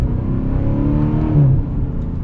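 A 2021 Dodge Challenger Scat Pack Shaker accelerating at full throttle, its engine a loud, close, deep rising roar that builds steadily for about two seconds.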